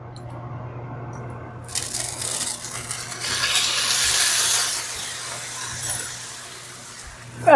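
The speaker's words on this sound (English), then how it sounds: "Now we can sear the steak." Steak searing in ghee in a hot pan sets off a broad sizzling hiss that rises once the meat goes in and holds steady, with a low hum underneath and a few small clinks.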